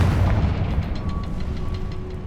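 A Confringo spell explosion in Hogwarts Legacy, a deep rumbling blast with a heavy low boom that lingers and fades over a couple of seconds, with ambient game tones underneath.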